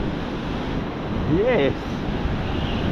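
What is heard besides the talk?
powerful ocean waves breaking on flat beach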